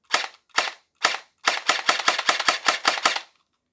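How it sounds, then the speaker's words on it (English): A Gel Blaster Surge 1.5 toy blaster fires single shots: three spaced sharp snaps, then a faster run of about eight crisp cracks in quick succession, loud and close, with no talking. "So in the first mode, it's single fire. So every trigger pull does one shot."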